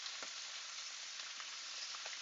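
Escarole sautéing with onions in a pan gives a steady, close frying sizzle with soft crackles and a few light stirring pops throughout, no voices.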